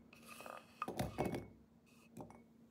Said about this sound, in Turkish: Bir cam kavanozumuza yerleştirelim.